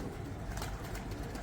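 Pigeons in a coop stir after the door is opened, giving a soft, dense mix of fluttering and low cooing close by, without speech.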